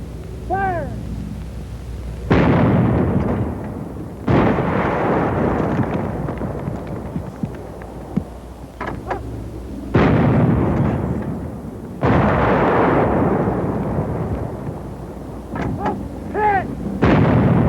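Infantry weapons fire at a concrete emplacement in a series of loud, heavy blasts a few seconds apart, each followed by a long rumbling decay.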